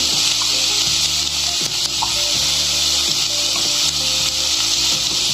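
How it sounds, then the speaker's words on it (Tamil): Chopped herb greens with a little salt sizzle and fry steadily in a pan, with repeated soft scrapes and stirs of a spatula over the continuous close, loud sizzle. "இப்போ நம்ம லேசாக வதக்கலாங்க."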